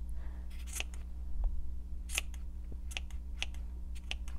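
Scissors snip the loose strands of a bead tassel with a series of quiet, crisp cuts in an irregular rhythm against a low steady hum, without speech.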